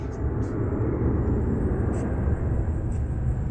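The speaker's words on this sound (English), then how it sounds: "that's a plane flying" A steady low roar of an airplane engine rumbles throughout as a plane flies over Kuala Lumpur International Airport, broad and sustained, with a few faint higher clicks on top.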